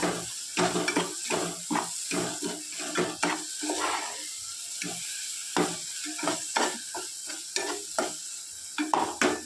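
Cauliflower gravy masala sautés in a pan with a loud sizzle, broken by repeated rhythmic spatula scrapes and stirring strokes close by.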